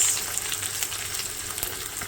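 Chopped onion frying in hot oil with fenugreek seeds and fennel for an aloo baingan curry, a constant close sizzle and crackle with faint stirring underneath.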